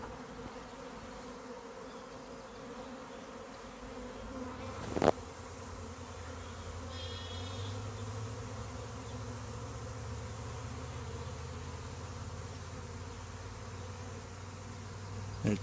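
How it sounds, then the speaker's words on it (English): A honey bee swarm flies in the air around a branch and a capture box, making a steady, continuous hum with a couple of sharp clicks or knocks. "A lot more bees that's in the air are making their way towards the box this time."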